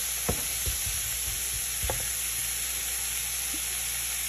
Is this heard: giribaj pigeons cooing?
no